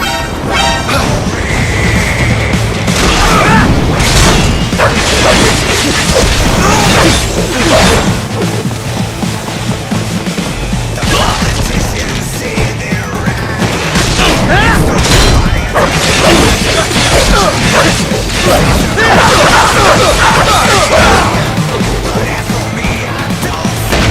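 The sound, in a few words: rocket explosions in the video game Metal Gear Rising Revengeance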